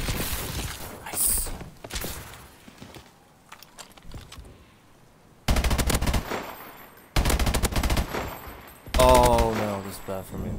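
Turret machine-gun fire in Call of Duty Exo Last Man Standing, loud sustained automatic bursts in several long volleys, close and dense, with quieter scattered shots and game effects before them.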